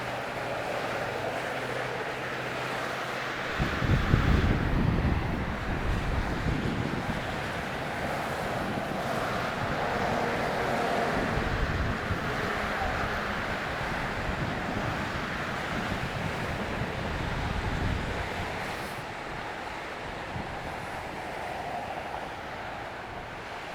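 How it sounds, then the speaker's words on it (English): Wind blowing across the I-94 pedestrian bridge in St. Paul, Minnesota, a loud, steady roaring rush with a deep low rumble that holds for the whole stretch and swells briefly near the start. "Keep away from that wind behind this thing right here."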